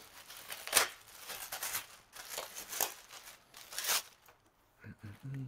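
Plastic bag packaging around a GCI Outdoor MaxRelax Pod Rocker rocking chair is pulled open, close crinkling and tearing rustles in irregular bursts, with a voice briefly at the end.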